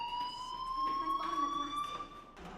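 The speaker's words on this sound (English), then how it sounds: "Hey, do you hear that fire alarm? That means you should be outside." A school fire alarm rings in the video game Life is Strange, a steady loud electronic tone holding throughout under faint background voices and room noise.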